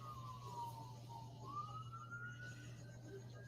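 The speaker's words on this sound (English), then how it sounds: "Here comes another ambulance." A distant ambulance siren wails with slowly rising and falling tones outside a Las Vegas Hooters during the aftermath of a shooting, faint over a low steady hum and background murmur.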